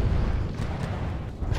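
Cram cannons fire in the naval combat game From the Depths, a heavy muffled boom rumbling low and dense through the short stretch, with no talking.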